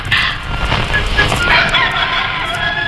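Chickens cluck and squawk close by in a busy, continuous flurry of short calls, with no talking.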